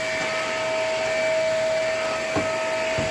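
A vacuum cleaner fitted with a crevice tool drones steadily while cleaning a rug stuck with dried-on food, a constant high motor whine with a couple of brief bumps near the end and no talking.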